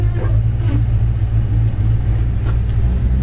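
A warmed-up 1968 Chevy pickup truck engine idles steadily, a loud, continuous low rumble from close by with no talking over it.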